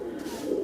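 Kattan breed racing pigeons coo in a loft yard, a soft, low murmuring coo that grows slightly louder toward the end, with no speech.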